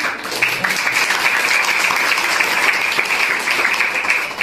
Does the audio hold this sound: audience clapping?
yes